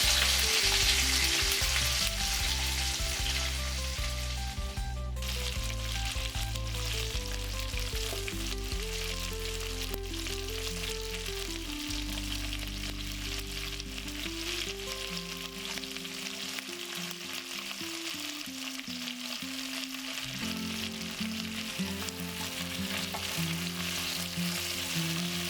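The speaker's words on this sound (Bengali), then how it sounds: "এবার টমেটোটা দিই, কেটে রাখা সবজিগুলো এবার দিচ্ছি।" Tomato and chopped vegetables frying in a pan with mustard seeds and asafoetida for sambar, a loud, steady sizzle throughout with stirring, and a sharp burst of added sizzle near the start when the ingredients go in.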